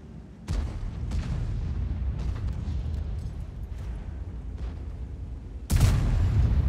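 Grille 15 tank destroyer gun firing in World of Tanks, heard as loud booming shots: one at the start and another near the end, with a rumbling battle backdrop between them.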